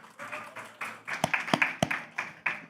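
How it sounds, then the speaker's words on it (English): A conference audience at a pavilion event applauds panelists with rhythmic clapping, moderately loud and steady, with a few sharper individual claps standing out near the end. "Ladies and gentlemen, a round of applause,"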